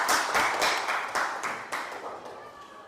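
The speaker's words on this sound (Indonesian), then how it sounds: "beri tepuk tangan untuk Putri" Students in a classroom applaud their classmate Putri with a short burst of brisk, rhythmic clapping that starts loud and fades over a few seconds.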